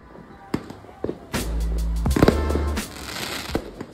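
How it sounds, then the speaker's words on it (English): New Year's Eve fireworks over the pier at West End, Roatán, with sharp separate bangs followed by a longer burst of crackling and booms, fairly close and loud. "I went down to the shore in West End and watched the fireworks from the pier."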